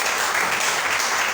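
Steady, dense applause from a church congregation giving acclamation during worship, a continuous wash of many hands clapping together.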